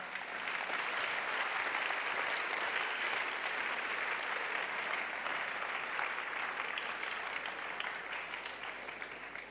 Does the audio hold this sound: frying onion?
no